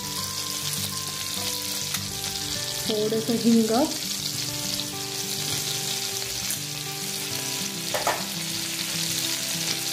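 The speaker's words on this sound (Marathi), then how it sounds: "आता ह्यामध्ये थोडंसं जिरं घालूया फोडणीला," Cumin and asafoetida hit hot oil and butter in a kadhai for a tempering, giving a continuous close sizzle and crackle throughout, with a brief spoken phrase over it near the start.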